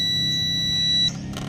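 A multimeter continuity tester, checking the wiring of a Rusi Macho TC150 motorcycle with an electrical fault, sounds a steady high-pitched beep for about a second, then cuts off abruptly, leaving faint background noise.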